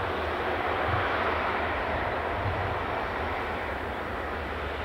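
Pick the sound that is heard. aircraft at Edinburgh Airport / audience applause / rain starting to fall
aircraft at Edinburgh Airport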